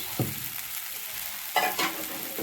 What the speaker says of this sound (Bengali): আমি ভালো করে ফ্রাই করে নিচ্ছি